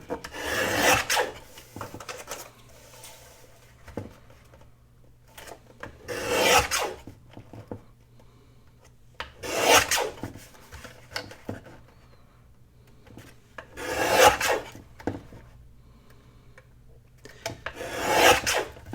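Scissors cut out paper tags with repeated rasping snips in about five bursts spaced a few seconds apart, close and fairly loud, with quiet pauses between and no talk.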